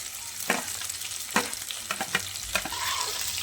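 Onions frying in a hot pan with green chillies, cumin and curry leaves, a steady bright sizzle punctuated by several sharp scraping stirs close by, no voices.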